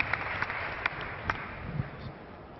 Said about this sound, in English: You have to keep applauding until they get here